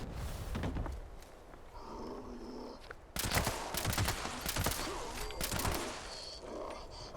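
Heavy-recoil gun firing in the Fallout 76 video game: bursts of loud rapid gunshots, a sparser stretch then an intense sustained volley, with game ambience and footsteps between.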